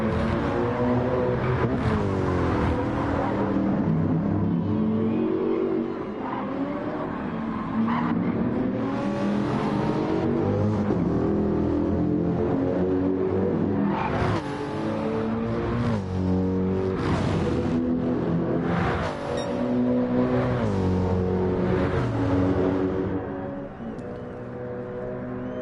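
Gr.3 race cars, including a Corvette, racing in Gran Turismo 7 at a circuit in Spain: loud, continuous engine howls rise and fall through gear changes as cars pass, with occasional tire squeal.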